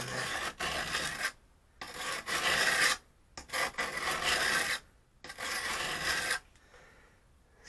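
A wood chisel is worked flat by hand on a sharpening surface, favoring one corner: a series of long, even back-and-forth rubbing strokes, close and clear, separated by brief pauses.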